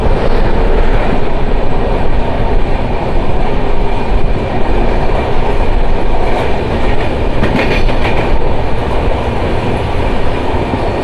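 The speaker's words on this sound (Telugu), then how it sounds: "ఇది ఆ ట్రైన్ కాదు, ఓకా నుంచి ఎర్నాకుళం వరకు వెళ్ళే ట్రైన్." An express train running from Okha to Ernakulam rushes past at close range, a loud continuous roar of wheels and carriages with a steady rumble and faint clatter throughout.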